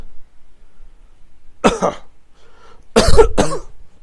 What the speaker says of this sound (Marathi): थोडा खोकल्याचं हे होतोय